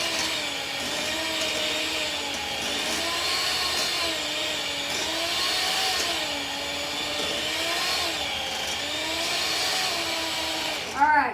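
An electric mixer on turbo whirs continuously through cake batter for apple bundt cake, a steady motor drone with slight wavering pitch, and a short clunk at the end.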